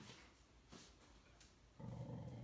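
A dog stirred from rest lets out a low, faint growl near the end, after a few soft rustles in an otherwise quiet room during a gentle yoga session.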